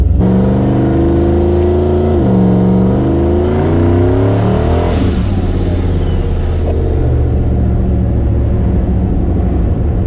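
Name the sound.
truck with 6.0 turbo launching hard, lifting front tire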